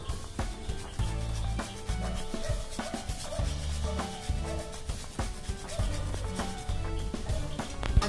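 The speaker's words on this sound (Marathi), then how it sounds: "जायफळ किसून घालायचंय त्याच्यावर" Nutmeg is grated over sweet coconut modak filling, giving repeated rough rasping strokes that are close and fairly loud, with no talk.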